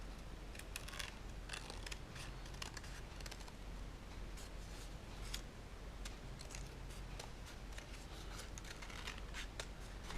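Scissors snip through folded material while making a homemade worry doll, giving a run of quick, close, crisp clicks and cuts in an otherwise quiet indoor space.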